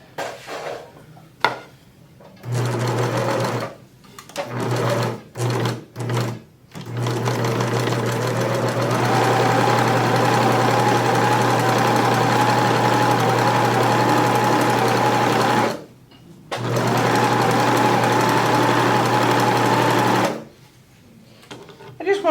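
A pedal-driven sewing machine stitches kitchen linen in a steady, loud mechanical whir. It runs in several short starts before settling into a long continuous run, pausing once, and a voice speaks briefly during the gaps.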